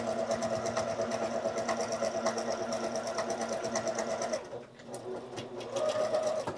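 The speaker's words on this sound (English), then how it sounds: "And I can top stitch that fabric a nice 1/4 inch away" A Bernina sewing machine runs a straight top stitch along fabric, a steady close whirring drone that briefly slows and stops, then starts up again.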